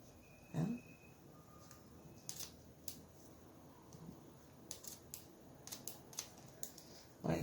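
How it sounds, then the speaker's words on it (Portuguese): Small scissors snip through the plush fabric lining of a handmade doll, a series of crisp, close, quiet clicks and cuts spaced irregularly over several seconds, with no talking. "você enfia a tesoura, pega só"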